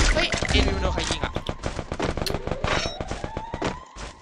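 A dense stream of gunfire crackles in a Free Fire match, including the AW sniper rifle, with rapid overlapping shots and impacts sounding close and loud almost without pause, mixed with game noise.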